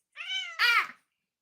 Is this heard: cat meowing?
yes